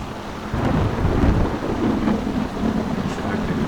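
Deep rolling thunder with steady rain and gusty wind in the video game Tempest, a loud continuous storm rumble filling the whole stretch.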